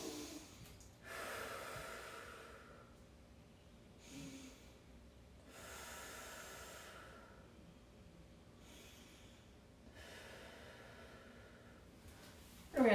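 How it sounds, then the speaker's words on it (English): Slow, deep breaths drawn in and let out through the nose during a quiet movement routine, each audible airy inhale and exhale rising and fading in a steady cycle, close and fairly soft, with a sharper sniff at the very end. "Great big breaths in through the nose,"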